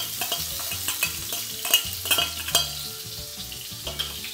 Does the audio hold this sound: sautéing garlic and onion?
yes